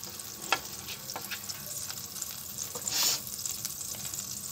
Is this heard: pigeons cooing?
no